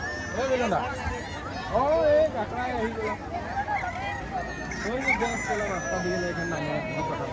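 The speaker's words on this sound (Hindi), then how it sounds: "देखो मुर्गे घूम रहे हैं" Roosters crow among free-roaming chickens in a tea garden in Assam, several rough calls rising and falling close by under steady talk and the babble of people nearby.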